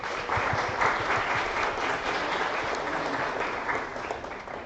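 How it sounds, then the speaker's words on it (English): Audience applause at a national assembly event in Wrocław, steady dense clapping from a crowd filling the room for the full length, fairly close and even in loudness. "Big round of applause for them."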